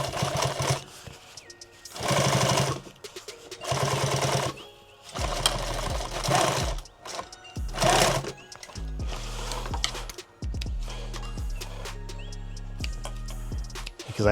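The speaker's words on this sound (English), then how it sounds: "I'm just gonna go back to the top and then sew all the way back down, get another line of stitching in here." Sewing machine stitching a micro rig, bursts of rapid mechanical whirring separated by short pauses, then a steadier run of fast stitching near the end, loud and close.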